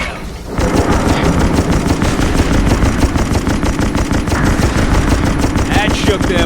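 Naval gunfire rattles in the Xbox 360 game Naval Assault: The Killing Tide, a loud, close, continuous rapid-fire barrage with dense overlapping shots that barely lets up.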